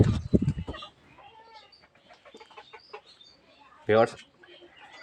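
A short burst of native desi chickens clucking up close, followed by quieter scattered clucks and one more loud call near the end.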